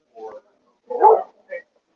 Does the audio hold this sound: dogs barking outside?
yes